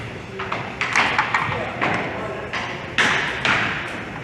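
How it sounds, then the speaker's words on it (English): Ball banging off the boards during a fast hockey-style game, several hard thuds scattered through the stretch amid arena noise and commentary talk. "Ball sent in off the boards."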